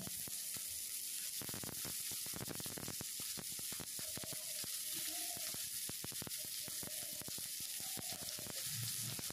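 Cut potatoes tumbling into a pan of frying bitter gourd set off a steady hiss, with scattered clicks and scrapes of the ingredients shifting, loud and continuous throughout.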